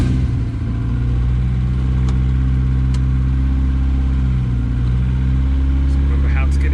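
An MG Midget fitted with a K series engine drives off, its engine giving a steady, close mid-pitched rumble with slight revving, while a voice speaks over it.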